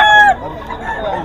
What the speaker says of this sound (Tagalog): Tinatawag ka ng manok. Kukurukuk.